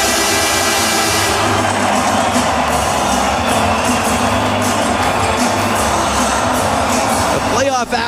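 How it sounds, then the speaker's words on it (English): A packed arena crowd at Rogers Place roars for the Edmonton Oilers after a 6-4 playoff win over the Los Angeles Kings, a loud, sustained wall of cheering and whooping beneath a commentator's voice. "the crowd saluting the team at center ice here at Rogers Place"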